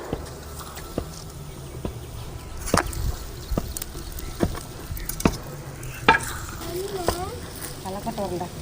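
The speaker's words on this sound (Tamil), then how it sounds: "ரொட்டியை இப்படி திருப்பி போட்டுக்கணும்." Roti being turned over and cooking in a hot pan, a steady low sizzle with scattered sharp scraping and tapping clicks from the flipping, while people talk in Tamil throughout.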